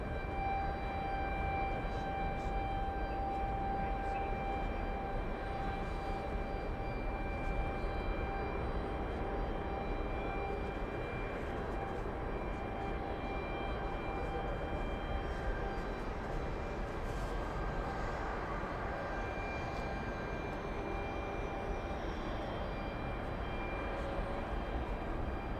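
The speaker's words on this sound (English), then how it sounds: "We have JetBlue 1201 flying to Fort Lauderdale." A JetBlue Airbus A320 airliner at JFK airport gives a continuous, steady jet roar for the whole stretch, heard from a distance with thin tonal whines riding above the broad rumble.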